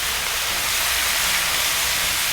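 Chicharrones frying in lard give off a steady, loud sizzling hiss that holds unbroken throughout, dense and close with no voices.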